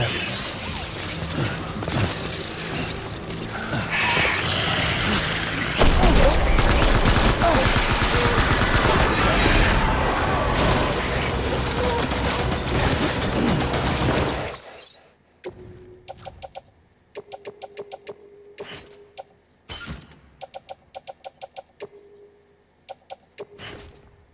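Heavy gunfire in the video game Death Stranding, with dense automatic bursts and overlapping shots for about fifteen seconds, then a quieter stretch of scattered sharp single reports and short bursts.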